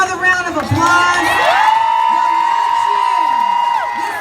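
A crowd at a Black women's march cheers and whoops loudly and continuously, with a sustained high shout riding over the crowd's roar and scattered voices nearby.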